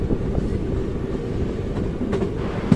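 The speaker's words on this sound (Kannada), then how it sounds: "ಸೊ ಹಂಗೆ ಹತ್ಕೊಂಡು ಟ್ರೈನ್ ಸ್ಟಾರ್ಟ್ ಮಾಡ್ಕೊಂಡ್ಬಿಟ್ರಿ" A Bangalore to Shirdi train starts moving, a steady close rumble of carriage and wheels on track with faint clacking and a brief squeal near the end, with no voices.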